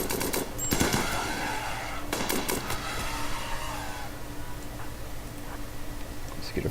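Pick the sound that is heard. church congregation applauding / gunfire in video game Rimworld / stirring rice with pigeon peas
gunfire in video game Rimworld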